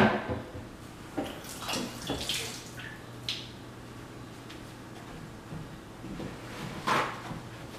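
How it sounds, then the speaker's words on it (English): Jicama being rinsed clean under a running kitchen tap, with light splashing and a few faint knocks and bumps against the sink, all fairly quiet with no talking. "I rinsed off the jicama."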